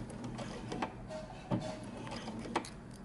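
A sewing machine backstitching knit fabric for a men's top, giving a soft mechanical whir with a few sharper ticks and clunks, quiet and close.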